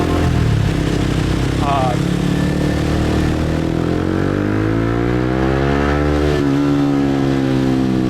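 A motorcycle engine on a busy Saigon street sputters after being flooded, then revs up in a long, rising drone that swells and settles, heard close amid steady loud traffic noise with people talking.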